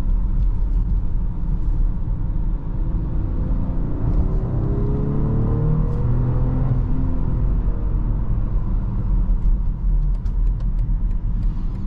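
A 2024 BMW X5 40i SUV on performance tires cruises along a road through a corner, giving a steady, enveloping cabin rumble of engine and tire noise with faint shifts in pitch and no talking.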